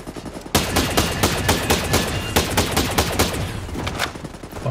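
Sustained automatic gunfire in the shooter game Ghost Recon Breakpoint, dense overlapping bursts of shots, loud and continuous from start to finish.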